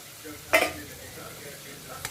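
Cucumber bhaji with crushed peanuts is stirred in a pan over a low background sizzle, with two short, close scraping strokes of the utensil.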